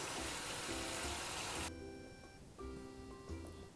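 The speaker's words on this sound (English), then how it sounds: "on this side I'm just putting clean water to rinse out my dishes" Clean water running into a sink for rinsing dishes, a loud steady gush that cuts off abruptly, then a quieter trickle and faint clinks before the flow briefly resumes.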